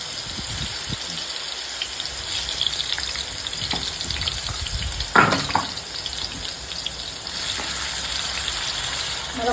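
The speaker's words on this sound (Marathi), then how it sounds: "आपला तेल गरम झालेला आहे त्यामध्ये टाकलेला आहे" Food fries in hot oil in a home kitchen, producing a steady, loud, crackling sizzle with a brief burst of extra spatter midway.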